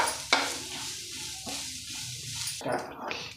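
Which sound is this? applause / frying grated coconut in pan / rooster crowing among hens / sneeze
frying grated coconut in pan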